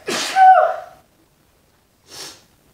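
A person with allergies lets out one sharp, close sneeze, followed a moment later by a softer breathy sniff or snort.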